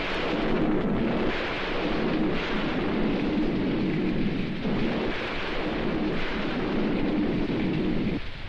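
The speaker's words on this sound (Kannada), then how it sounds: "ಮಳೆಯಲ್ಲಿ ನೆನಿಬೇಡ" Rain and thunder fill the scene with a continuous heavy roar of rainfall and deep rolling rumbles surging and fading in waves, loud and unbroken, with no voices.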